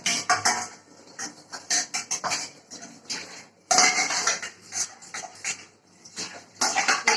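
Pots, plates and cutlery being washed, with close, irregular metallic clatter and clinks over several seconds, bursts of knocking separated by short lulls.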